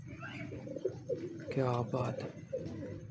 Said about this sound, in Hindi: बड़ा बड़ा तगड़ा कबूतर है ये